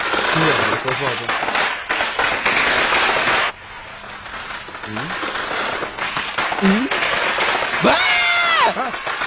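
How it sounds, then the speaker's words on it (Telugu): Firecrackers burst in a comedic Telugu movie scene, sharp cracks and crowd-like noise mixed under lively dialogue and voices, with a musical sting near the end. "దీపావళి కాదు కానీ క్రాకర్స్ పేలుతున్నాయి"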